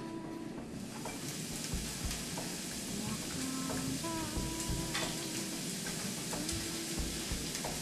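Flour and breadcrumb coated eggplant slices fry in a pan with a loud, steady, crackling sizzle that fills the whole stretch, while faint tonal music sits beneath it.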